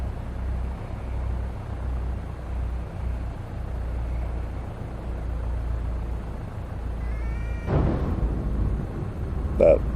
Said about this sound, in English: That sound you heard at the end was the stall indicator.